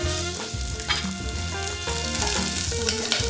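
Ginger and onion fry in a hot pan for Taiwanese shredded chicken rice, giving a dense, loud sizzle that holds steady throughout alongside tonal background sound.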